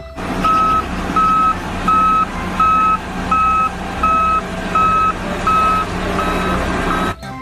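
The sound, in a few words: toy road roller reversing beeps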